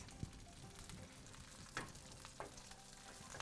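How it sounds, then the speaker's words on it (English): Veggie burger patties and portobello mushrooms frying in a pan give a steady close sizzle with occasional sharper pops and crackles, heard alone without voices. "And you can hear everything sizzling,"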